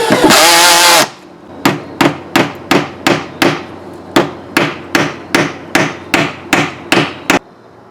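A hammer drives nails into door trim molding, starting with a loud continuous burst, then about fifteen sharp, evenly spaced blows close by with no talking.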